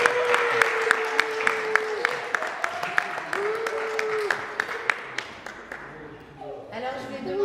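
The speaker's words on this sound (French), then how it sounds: "Vous pouvez les applaudir." Wedding guests at a French civil ceremony applaud the newlyweds with scattered, moderately distant clapping, while a voice talks over much of it.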